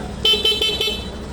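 Short horn blasts from a Suzuki Access scooter with a stock horn: four quick honks in a rapid, uneven series, close and fairly loud over a low background hum, with no talking.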